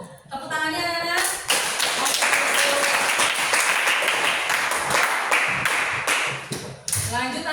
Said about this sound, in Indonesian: Tepuk tangannya anak-anak.